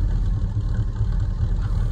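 A Land Rover just back from the scrapyard idles close by, a steady, loud, waffly low rumble that holds evenly throughout with no pauses.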